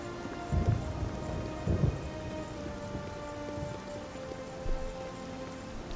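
Heavy rain pours down steadily in the video game Oblivion, with low rolling rumbles of thunder swelling a few times beneath the constant patter, and no voices.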